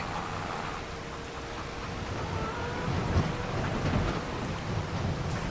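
Steady rain with rumbling thunder in the farming video game Farming Simulator 25 during a beet harvest, a continuous wash of rainfall with low rolls of thunder swelling toward the end, no talking.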